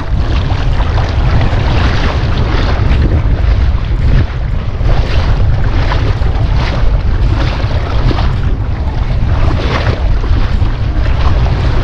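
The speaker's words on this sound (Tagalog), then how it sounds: "medyo maalon, malakas ang hangin" Strong wind buffets an open microphone on a small boat on choppy water, with a heavy continuous low roar and gusting rushes and no voices.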